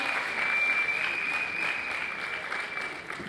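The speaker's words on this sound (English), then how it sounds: "Warm applause, parents, please." An audience of parents at a school annual day applauds steadily for a few seconds, the clapping dense and even throughout with a faint tone in the background.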